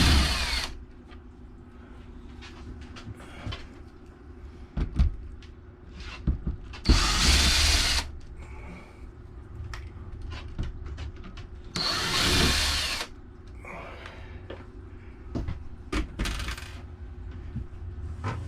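Plastic inside cover being worked off a Fantastic Fan roof vent, with scattered clicks, rubs and two loud bursts of cracking and scraping near the mic.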